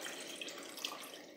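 Water poured into a pot of mutton stock and rice for white mutton biryani, a steady continuous splashing pour of about 2.5 cups, close and alone with no talk.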